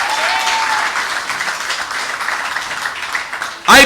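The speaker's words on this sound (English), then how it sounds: "Give her a round of applause." A political rally crowd applauds in a thick, loud, continuous wash of clapping, and a short sharp burst of other sound cuts in right at the end.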